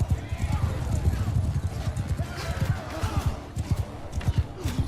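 Horse hooves galloping in the video game Bannerlord, rapid rhythmic clip-clop thuds close and loud throughout, with someone talking over the gameplay.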